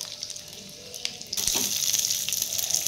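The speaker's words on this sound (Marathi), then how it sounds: "तेल आपलं तापलंय। आता आपण हे शेंगदाणे यामध्ये ॲड करून घेऊया।" Peanuts dropped into hot oil in a kadhai start a steady hiss and sizzle that swells suddenly and holds, close and moderately loud, with a faint clink just before.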